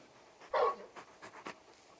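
Large dog panting in Final Fantasy XVI, a few soft breathy puffs and a short burst of huffing, close but fairly quiet, with no one talking.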